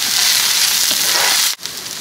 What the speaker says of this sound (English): We'll give our sizzling spices about 30 seconds and then add your onions, ginger, garlic and green chilies.